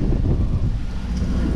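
Wind buffeting the microphone on a dock, a loud, steady low rumble with no voices over its short length.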